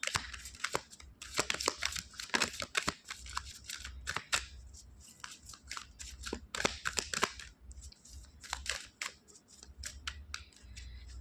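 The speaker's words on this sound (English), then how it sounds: "Okay, I shuffled it." Cards riffle and slap together in repeated bursts, crisp papery flutters close by with short pauses between shuffles.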